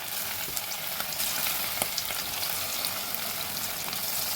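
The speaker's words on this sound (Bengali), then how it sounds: "এবার আমি একটা একটা করে পকোড়াগুলো ভেজে নেব" Pakoras deep frying in hot oil, an even, fairly quiet bubbling hiss with small crackles throughout.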